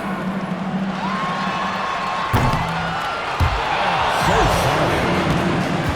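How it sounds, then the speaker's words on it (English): In an NBA 2K25 WNBA game, an arena crowd cheers and claps under a loud, continuous murmur, with sharp thuds and swelling whoops rising toward the end. "One more time, a round of applause."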